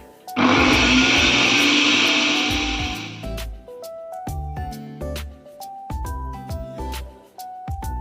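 An electric grinder whirs loudly for about three seconds, grinding low-flame roasted spices including black pepper and dried red chillies, then cuts off as light melodic music continues.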